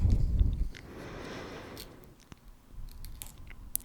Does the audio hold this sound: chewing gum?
yes